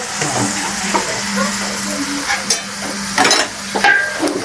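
Potatoes sizzle steadily as they fry in a pan, with scraping stir strokes of a spatula breaking through a few times, close and fairly loud, no talking.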